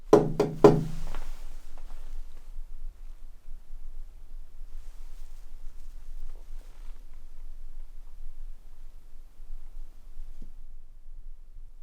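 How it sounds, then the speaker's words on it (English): A few sharp knocks on wood or a hard surface in a quiet room during a paranormal investigation, three or four quick raps at the start followed by near-silence with a faint low hum. "Could you make a noise? Could you knock like this"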